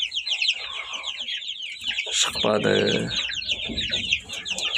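Domestic hen clucking near an incubator with newly hatched chicks, a steady run of soft clucks and chirps at moderate level, with someone talking over it partway through.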